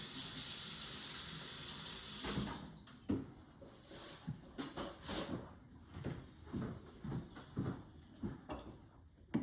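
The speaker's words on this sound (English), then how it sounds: "So while you do that, I'm going to rinse off my onions." Tap water runs into a sink for a few seconds as onions are rinsed, then stops, followed by scattered clunks and handling noises at close range.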